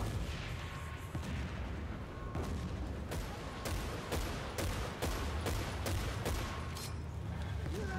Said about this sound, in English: Well, that's some explosions right there.